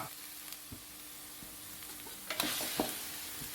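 Eggplant and egg being stir-fried in a hot pan give a steady close sizzle, with scraping spatula strokes that come quicker and louder near the end.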